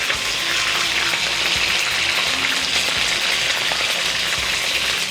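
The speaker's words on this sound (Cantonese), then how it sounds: "大約大火滾油炸多佢1分鐘" Pork ribs deep-fry in hot oil over high heat, a loud, dense, continuous sizzle and crackle with fine bubbling throughout.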